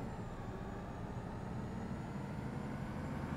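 A city bus engine in the OMSI 2 simulator game drones steadily low with a broad rumble, holding at an even level throughout, with no talking.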